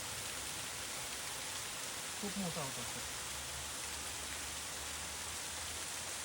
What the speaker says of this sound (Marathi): जस्ट आम्ही असं ट्रॅक करत करत आलो तर अचानक पाऊस सुरू झालाय